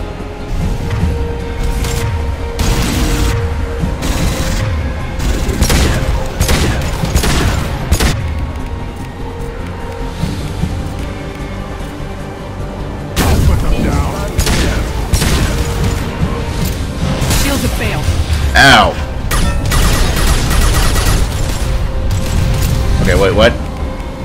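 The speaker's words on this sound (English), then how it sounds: "Grunt should be using his assault rifle" Assault rifle gunfire in the video game Mass Effect 2, with repeated loud bursts and booming impacts through most of the stretch, mixed with other combat effects and overlaid by talk.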